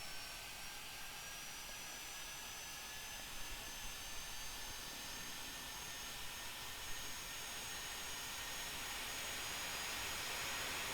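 A BR GT3 gas turbine locomotive at full throttle on the Woodhead Line in Train Simulator 2018, giving a steady, high-pitched turbine whine with a broad rushing roar that holds level and swells slightly toward the end.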